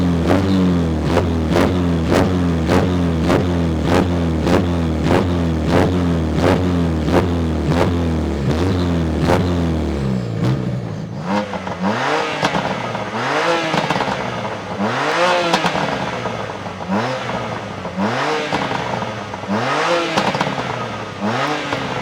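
Two tuned race cars, a 410 hp BMW M2 Competition and a 400 hp Seat Ibiza 6K PD, rev loudly and close up: first a rapid, steady run of rhythmic revving bursts, then slower rising-and-falling revs with rough crackle.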